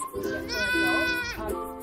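Baby goats at a stable bleat with a long, nasal, wavering cry near the middle, followed by a shorter bleat, close and clear, while a person's voice runs underneath.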